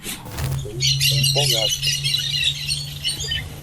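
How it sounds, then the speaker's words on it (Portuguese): Parakeets squawk and chirp in a busy, continuous background chorus at moderate level, while a low steady hum runs underneath. "isso aí é o louvor de fundo. Periquitos."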